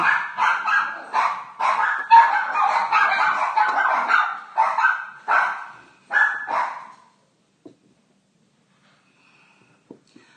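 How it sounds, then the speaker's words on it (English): Several dogs bark in a fast, loud flurry of overlapping yaps and woofs that run for about seven seconds, then break off into near silence with a couple of faint knocks. "Sorry about my dogs."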